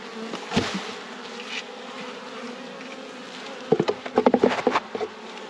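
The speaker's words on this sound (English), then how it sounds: "Very nice docile bees." Honey bees buzzing around an open hive during a honey flow, a steady close drone with bursts of louder, sharper buzzing as bees fly near.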